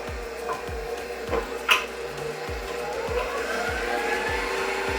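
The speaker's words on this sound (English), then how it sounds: "We're gonna be using a KitchenAid today" A KitchenAid stand mixer beats thick dough at speed level 4, a steady motor whir with a rapid, regular thumping pulse as the beater turns, close and fairly loud, no talking.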